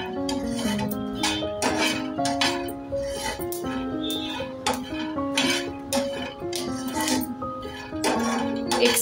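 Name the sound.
chillies being stir-fried continuously in a pan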